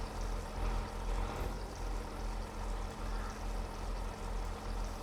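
A tractor engine idles in Farming Simulator 22 as a constant low, rumbling drone at moderate level, steady throughout with no talking.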